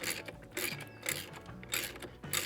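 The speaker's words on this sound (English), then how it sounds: "And then what you're gonna do is take your ratchet." A ratchet tightens the steering wheel bolt on a Corvette C8, with a few quick bursts of close, crisp clicking broken by short pauses, heard alone.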